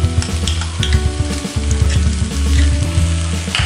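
Coconut and milk kheer mixture being stirred in a pan for naru, loud close scraping strokes with a rhythmic push and pull over a soft sizzle.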